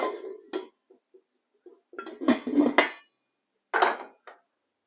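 A lid is set back onto a pot of goat's milk during cheesemaking, giving a few short clinks and knocks at close range, with a cluster of louder rattles in the middle and another knock near the end, separated by quiet gaps.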